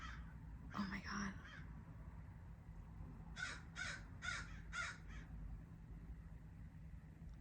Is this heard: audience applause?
no